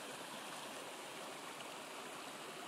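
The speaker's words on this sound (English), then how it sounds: "it's kind of a nice little stream" A small mountain stream beside a trail cabin in Shenandoah National Park, running with a steady, close, broadband rush and trickle throughout, with no voices.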